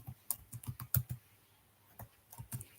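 Typing Python loop code on a computer keyboard, a quick irregular run of soft keystrokes with a short pause midway, quiet and close, no voices.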